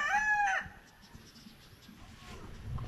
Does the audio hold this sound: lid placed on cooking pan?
no